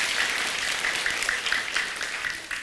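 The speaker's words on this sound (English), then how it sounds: "Everybody give yourself a round of applause." A live audience applauds loudly and steadily for a couple of seconds, a dense wash of many hands clapping at once.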